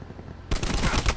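Loud burst of automatic gunfire in a shooter video game, sustained rapid fire kicking in abruptly after a quieter half-second and continuing to the end.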